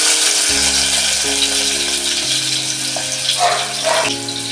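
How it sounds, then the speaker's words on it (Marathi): Chopped onion hits hot oil in a heated pan and sizzles steadily, a close, continuous frying hiss with a few low knocks and clatters from the pan and utensils. "बघा तेल गरम झालेलं आहे मी आता कांदा घालते"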